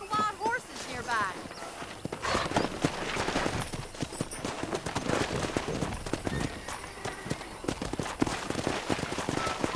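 Hooves of a pack of wild horses clip-clop and gallop through a Red Dead Redemption game scene, steady and fairly close, mixed with game effects and occasional talk over the top.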